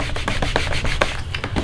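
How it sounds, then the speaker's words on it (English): Rubber stamps are scrubbed clean on a Stampin' Scrub pad, giving a steady, close rubbing and scratching texture with quick repeated strokes and no talk. "I'm going to go ahead and clean off these stamps before I go any further using my Stampin' Scrub."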